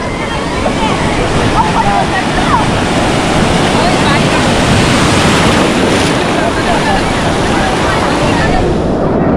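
Loud ocean waves break and roll continuously on Murdeshwara beach, a dense steady roar of surf mixed with heavy wind buffeting, with faint voices at moments.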